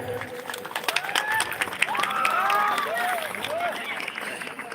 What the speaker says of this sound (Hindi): तालियां के लिए